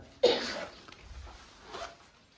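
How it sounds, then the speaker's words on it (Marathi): A single short, sharp cough bursts out close by, then fades into soft breathing and faint rustling. "खोकला लागला तुला"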